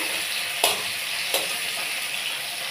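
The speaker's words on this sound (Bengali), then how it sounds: "দিয়ে আমি একটু টমেটোটা ভালো করে ভাজা ভাজা করে নেব, যাতে গলে যায় টমেটোগুলো।" Chopped tomatoes fry in a pan with a constant sizzling hiss, broken by two brief scraping stirs, heard close and without talk.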